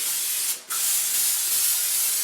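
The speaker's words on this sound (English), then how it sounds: "So, I'm going to spray it really generously." An aerosol can sprays a cake pan generously in a loud, close hiss that runs nearly continuously, broken by one brief pause before resuming.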